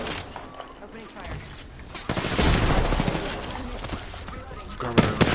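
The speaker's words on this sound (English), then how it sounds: "Opening fire." Rapid bursts of gunfire rattle and boom in a chaotic video game firefight, swelling louder midway, with voices heard alongside the shooting.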